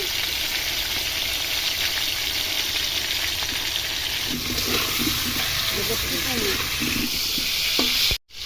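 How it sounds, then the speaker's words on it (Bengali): Potatoes seasoned with salt and turmeric fry in a pan, giving a steady hot sizzle with scraping stir strokes throughout, while a person talks over it partway through before a sharp cut at the end. "আমি ভেজে দিচ্ছি তাড়াতাড়ি আলুটা ভাজ"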